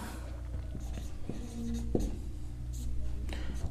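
A pen scratching on paper during a maths lesson, a soft, continuous writing sound over low room hum with faint background murmur.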